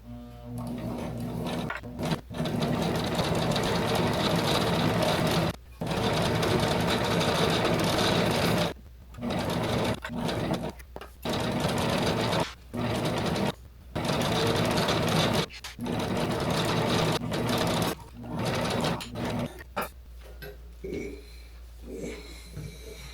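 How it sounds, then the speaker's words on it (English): A sewing machine runs a zigzag stitch around curved fabric edges, loud and close in long steady whirring bursts separated by short pauses, with a little talk near the end. "I'm really just going to finish these curves here with my zigzag stitch."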